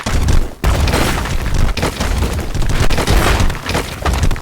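A ball blowing up in a competitive video game match, loud booming bursts with shattering crackle, several hits in quick succession amid busy game effects.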